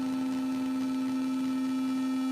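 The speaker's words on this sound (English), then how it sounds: "it starts to turn into a triangle" Arturia MicroFreak synthesizer tone shifting toward a triangle wave: a loud sustained pitched note holds steadily with a few faint overtones, alone and unbroken.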